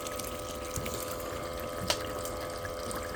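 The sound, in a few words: water pouring out over the top of a header box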